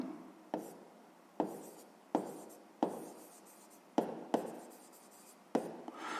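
A fraction being written by hand during a sixth-grade maths exercise, close, dry scratching strokes of pen on paper in separate bursts, each starting sharply and fading, about eight strokes in quick succession.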